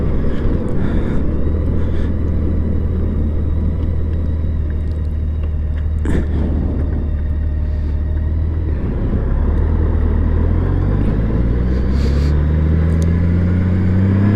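A vehicle passes a motorcyclist on the open road, a loud, steady engine and wind rumble that swells as it goes by and shifts in pitch toward the end.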